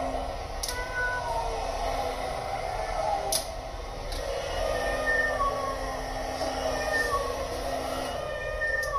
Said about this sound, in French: Le chat est là.